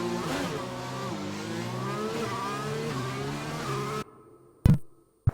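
Renault race cars in a racing video game rev hard with high, whining engine tones that climb and drop through gear changes for several seconds, then cut off abruptly, followed by a couple of sharp clicks.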